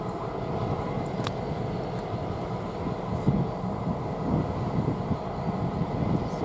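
A CN freight train switches cars onto a siding, giving a steady low rumble and grinding drone with faint metallic squeals, heard alone without any voices.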